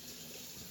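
Water pours from a measuring cup into a pot for water bath canning, a short, faint, steady stream of splashing liquid heard up close.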